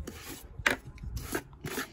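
A small brush sweeps sawdust off the bar and chain of an Einhell GE-LC 18/25 Li cordless chainsaw in four short, rasping, scratchy strokes, close and fairly quiet with no talk.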